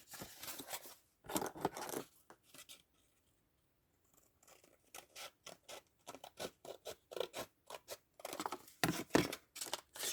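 Scissors cutting paper for a handmade grimoire book, a run of close, quiet crisp snips and scraping strokes in bursts, with a short pause in the middle.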